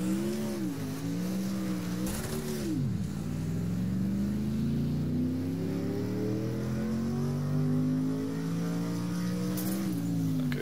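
Race car engine revving in the Wreckfest racing game, with a steady loud drone that rises and falls in pitch, dipping sharply near the start before climbing steadily as the car accelerates, with no one talking.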